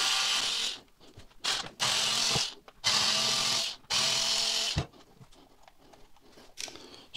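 Small screws being removed from the differential cover of a Truck Sprint Twin 9125 RC truck with a power screwdriver, four close, loud whirring bursts separated by brief pauses.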